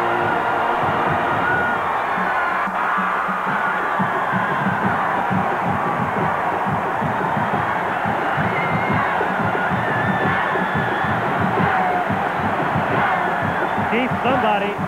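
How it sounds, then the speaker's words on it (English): A packed college football stadium roars continuously during the frantic final minute of a 1985 Alabama at Georgia game after a Georgia blocked punt and touchdown, a dense sustained crowd din with a broadcaster talking over it. "Listen to the crowd."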